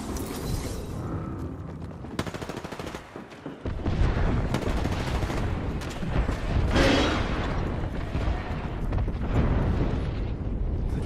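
Heavy explosions and rattling gunfire in Apex Legends form a dense, loud barrage, with booming blasts layered over rapid shots and a brief lull before the chaos resumes.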